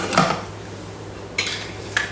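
A Thermomix lid set in place on the bowl: a short clatter of hard parts, then two quieter clicks as it seats, close by in a quiet kitchen.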